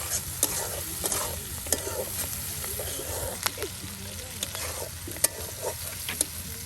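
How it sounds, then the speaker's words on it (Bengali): Chilies and onions frying together in a pan beside a riverbank, a continuous close sizzle broken by frequent sharp spatula scrapes and knocks, with a voice talking faintly underneath. "কত সুন্দর করে দেখুন একদম মরিচ পেঁয়াজ একসাথে ভেজে নেওয়া হচ্ছে"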